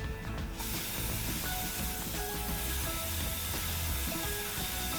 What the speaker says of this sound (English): Spray the outside there.